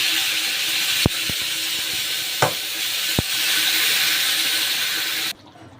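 Potatoes and whole spices frying in hot oil in a home kitchen: a steady loud sizzle runs for several seconds, broken by a few sharp clinks of a utensil, then cuts off abruptly near the end.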